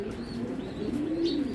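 A Belgian racing pigeon gives a short, low rolling coo close by, with faint chirps above it and a quiet background.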